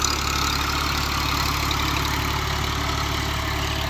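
A Fiat 480 tractor engine runs steadily while pulling a cotton planter in a field, a loud, even diesel drone with a constant low throb and no talking.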